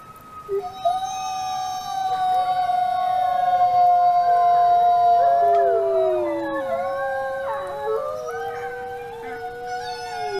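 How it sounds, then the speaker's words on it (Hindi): Arctic wolves in a pack howl together, several long wavering howls overlapping and sliding up and down in pitch, loud and sustained throughout with no talking. "यह है आर्कटिक के भेड़िए।"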